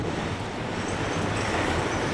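Idling HLCX SD40-2 diesel locomotives in Santos give a steady low rumble with broadband mechanical noise, continuous and moderately loud, with no voices.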